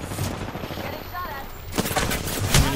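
Gunfire in a multiplayer shooter video game, a dense rattling fusillade of rapid shots that swells toward the end, heard alongside game noise and a player's voice.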